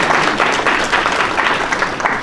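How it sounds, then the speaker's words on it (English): Dense, steady applause from an audience at a community program about Stuart High School, held at the Stuart Heritage Museum, filling the clip with continuous broadband clapping at a fairly loud, even level. "So you get a round of applause"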